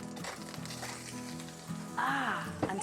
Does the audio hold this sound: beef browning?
yes